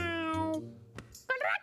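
A cartoonish cat meows in the video game Lost in Play, a drawn-out tonal mew followed by a short click and a brighter second call, close and clear.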